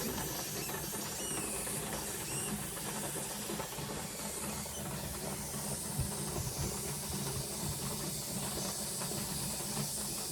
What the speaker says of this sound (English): never leave your pressure canner unattended at this point. You want to stay with it. You want to listen to it.